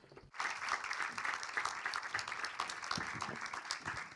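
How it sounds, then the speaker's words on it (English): Quiet but sustained applause from a film-talk audience after a guest is introduced, a busy patter of many hands clapping for about four seconds. "A big round of applause."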